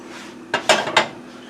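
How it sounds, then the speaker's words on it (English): Metal pots and pans clank inside a kitchen oven, three bright close clattering hits in quick succession over a low steady hum. "Always forget I have pots and pans in the oven."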